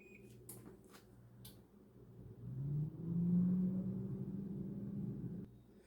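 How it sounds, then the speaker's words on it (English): A few clicks and beeps from an air fryer being set to 360 degrees, then the fan starts with a low steady hum as eggplant cooks, running several seconds before stopping. "set your air fryer to 360 degrees"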